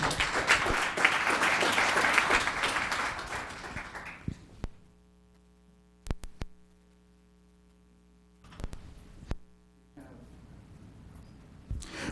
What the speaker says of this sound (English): One more round of applause for Nathan.